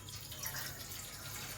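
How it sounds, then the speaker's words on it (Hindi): Water pouring into a frying pan, a soft steady splashing trickle, faint and close, lasting under two seconds. "सबसे पहले मैं फ्राई पैन में इसे पानी डालूंगी"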